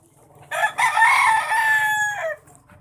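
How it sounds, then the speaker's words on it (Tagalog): A single rooster gives one full crow lasting about two seconds, rising and then trailing off. It is clear and fairly close against a quiet background. "Ingay ng manok."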